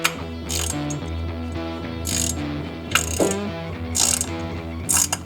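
Ratchet clicking in repeated bursts while a 5/16 screw is tightened into the fender brace of a Harley-Davidson Fat Boy or Breakout, close and sharp, with short pauses between strokes.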